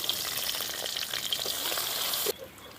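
Spices, onion and ginger-garlic paste fry in a pan over an outdoor village fire, a close, busy crackling sizzle that drops suddenly quieter near the end.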